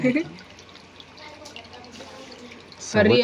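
Water runs from a tap into a container, a steady soft splashing hiss throughout, with people talking briefly at the start and more loudly at the end.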